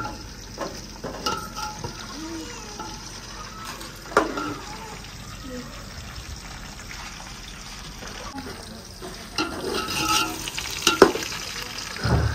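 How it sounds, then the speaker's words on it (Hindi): Onions browned in a pan with tomatoes then added, giving a close sizzle and frying hiss with wet stirring clatters and scrapes, louder near the end, as people talk over it. "हमारे प्याज जो है ना वो ब्राउन हो चुके हैं। अभी जो है ना ऐड कर दिए टमाटर।"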